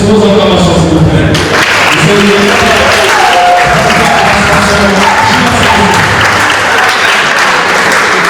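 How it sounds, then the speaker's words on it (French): Audience at a school sports event, a girls' secondary match, breaking into loud, dense applause with crowd noise and scattered cheering after an association president is introduced; the clapping continues strongly throughout. "Apenata, président de l'association GNACSR, sur vos acclamations, s'il vous plaît."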